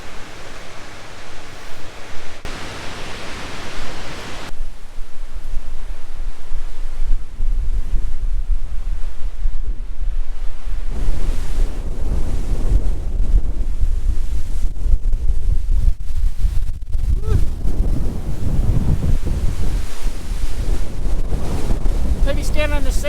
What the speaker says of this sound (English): Standing in the sand was a bad idea with the wind blowing 60 miles an hour.